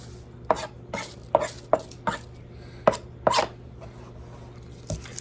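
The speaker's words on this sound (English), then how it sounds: "cut my onion" Knife chopping an onion on a cutting board, sharp distinct strikes at an uneven pace, about nine cuts, close and clear over a faint hum.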